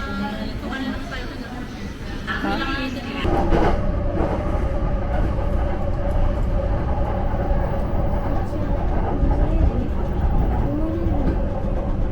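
Steady rumble and rolling clatter of the Keisei Skyliner airport train riding through Tokyo, heard from inside the carriage, with a voice talking over the continuous noise.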